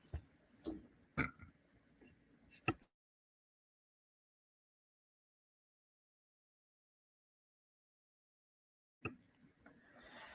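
A few short, harsh coughs burst out close by, then the sound cuts to complete silence for several seconds before faint noise returns.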